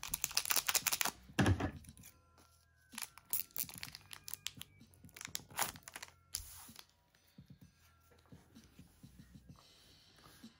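Harry Potter trading card booster packs from Chamber of Secrets are torn and unwrapped up close, with bursts of crinkling foil and ripping, then quieter rustles and taps of cards being handled in irregular spurts.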